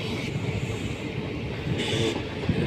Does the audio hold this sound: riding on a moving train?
yes